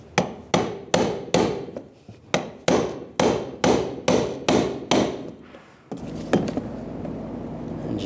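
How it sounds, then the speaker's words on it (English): A brass punch taps the fuel pump lock ring on a 1999-2006 Chevrolet Silverado: about ten loud, evenly spaced metallic strikes, close by, followed by quieter handling noise. "just using a brass punch, just tap it in place"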